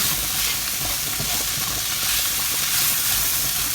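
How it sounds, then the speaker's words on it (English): A steady, bubbling hiss of spiced okra curry boiling in a pan, constant and close, with faint crackles and no voices. "That is boiling away beautifully."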